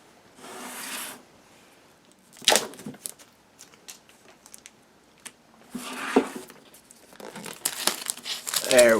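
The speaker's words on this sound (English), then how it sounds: "let's take a look at it as we get the plastic off here" Plastic wrap crinkling and tearing as it is pulled off an Analogue NT Mini Noir console box, in irregular close bursts of crumpling with quiet gaps between.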